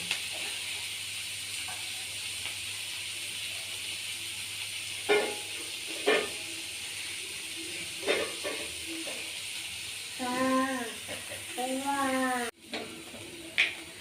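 Onion frying in oil in a home kitchen for gavar batata bhaji, a steady soft sizzle and hiss throughout with occasional stirring clinks, while someone speaks briefly near the end.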